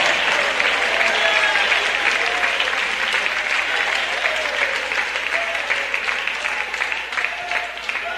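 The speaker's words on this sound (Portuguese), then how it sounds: "batam palmas e glorifiquem a Jesus." Church congregation clapping hands in praise during a Portuguese-language sermon, a loud continuous wash of many hands with voices faintly mixed in and tailing off slightly at the end.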